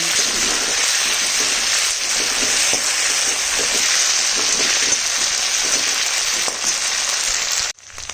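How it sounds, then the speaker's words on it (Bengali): Ginger garlic paste sizzles hard in a hot frying pan, a loud, dense, unbroken crackle that runs steadily throughout before cutting off abruptly near the end. "হালকা ফ্রাই করে নিচ্ছি"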